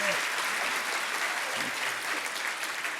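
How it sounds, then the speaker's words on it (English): Conference attendees clap together in a full, sustained round of applause that stays fairly level, with a brief murmur of voices partway through. "Applause."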